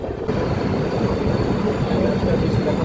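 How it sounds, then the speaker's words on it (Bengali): The Humsafar Express rolls into Naihati Junction with a continuous, loud rumble and clatter of carriages, steady from start to finish after a brief softer opening. "আমাদের ট্রেন দীর্ঘ 549 কিলোমিটার চলে আসার পর উত্তর 24 পরগনা জেলার নৈহাটি জংশনে এসে পৌঁছেছে"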